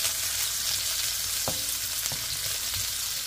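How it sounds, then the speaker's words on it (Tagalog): Pork belly fries in hot oil, a loud continuous close sizzle with a couple of brief clicks from the pan, no voices. "Pork belly, aking sinangkot siya muna, sa nagingit-ngit na mantika."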